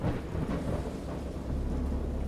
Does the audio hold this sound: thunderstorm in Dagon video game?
yes